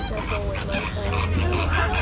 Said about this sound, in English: This is the flamboyance of greater flamingos. They're very crazy this morning.